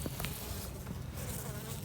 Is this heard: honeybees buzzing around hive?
yes